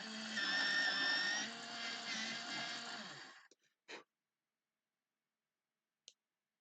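A pencil being sharpened in a handheld sharpener while drawing a night sky, a steady close grinding rasp for about three seconds, then a couple of short faint taps before silence.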